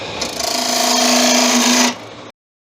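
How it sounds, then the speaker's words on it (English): A bowl gouge cuts hard acacia wood spinning on a wood lathe for a turned Christmas tree, making a loud, steady buzzing scrape with a humming tone for about two seconds before cutting off abruptly. "I'm going to use a bowl gouge for doing this"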